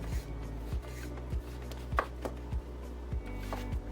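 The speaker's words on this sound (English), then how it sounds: "now we're just going to slice the melon" A knife slices through a honeydew melon with steady, evenly spaced thuds against a cutting board, about seven cuts, close and clear with no talking.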